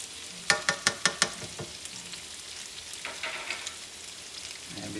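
A spoon scrapes and taps through tomato paste stirred into sizzling sausage and peppers with Marsala, a quick run of sharp clacks up close followed by a softer sizzle with light scraping.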